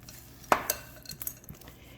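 A utensil scrapes and clinks against a bowl while stiff oatmeal peanut butter bar dough is worked, a sharp knock followed by several lighter taps and scrapes, close and fairly quiet, with no talk.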